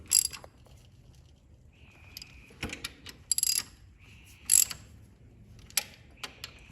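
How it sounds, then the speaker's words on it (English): Bolts being run down with a ratchet to compress lock washers on a Kubota BX2380 tractor: quiet background broken by short bursts of clicking ratchet strokes and metallic taps, close and intermittent, with no voices. "Basically just running these down now just to kind of compress the lock washer."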